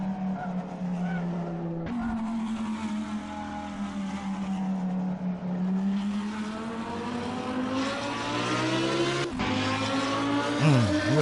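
A V12 or V10 supercar in the racing game Assetto Corsa accelerates hard, its engine roaring and rising in pitch through several gear changes, loud and continuous with brief dips at each shift.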